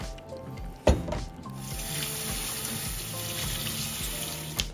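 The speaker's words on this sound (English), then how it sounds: "Let's wash our carrots, capsicum, and place that all into a big bowl" Carrots and capsicum rinsed under a running kitchen tap, a steady close stream of water splashing in a sink after a brief knock, continuing evenly to the end with no talking.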